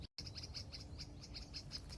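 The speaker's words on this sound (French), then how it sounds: "T'entends les oiseaux?" Birds chirp outdoors in a rapid, steady run of bright, high tweets that repeat close together for about two seconds over a soft low background rumble.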